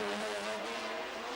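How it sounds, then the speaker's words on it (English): Naturally aspirated V12 BMW race car with open exhausts wailing at high revs during a 1997 FIA GT race in Helsinki, a steady, sustained high-pitched scream heard briefly at a distance. "wail of the V12 BMW. Atmospheric engine, no turbochargers to restrict the open exhausts"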